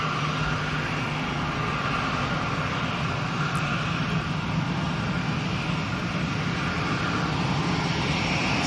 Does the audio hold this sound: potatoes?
no